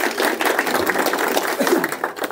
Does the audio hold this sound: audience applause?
yes